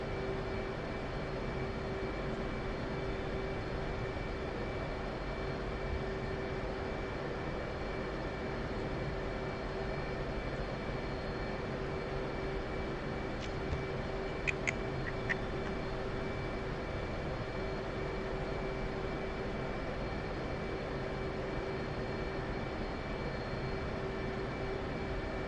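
A jet aircraft in the DCS flight simulator drones with a steady engine roar and high whine heard from the cockpit, unbroken apart from a few faint clicks midway.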